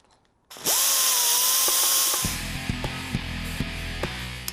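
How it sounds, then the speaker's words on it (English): Die grinder grinding out the inside of old setup bearings during an off-road buggy build: a sharp whine spins up, then bites into the metal with a loud harsh grind and repeated chattering bursts, close and alone. "I'm going to grind out the inside with a die grinder until they fit on and off"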